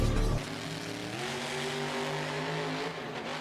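The monster truck Christine roars at a stadium, its engine revving loud and close in a sustained growl with a rising, steady pitch.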